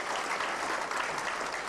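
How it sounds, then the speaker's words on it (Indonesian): Seminar audience applause: dense, steady clapping from a crowd throughout a short burst, with no talk. "Oke, tepuk tangan yang rata ya."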